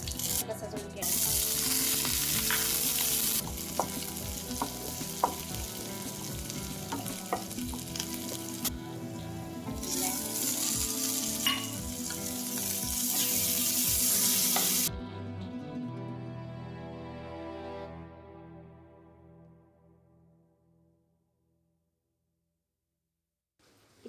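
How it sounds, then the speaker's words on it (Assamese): Panch phoron spices and green chillies fry in hot oil in a pressure cooker, a loud steady sizzle with scattered pops and crackles that fades gradually into silence toward the end. "এতিয়া ইয়াত অকণমান পাঁচফোৰণ দিম আৰু কুকাৰটো দিম এতিয়া কেঁচা জলকীয়া দিম"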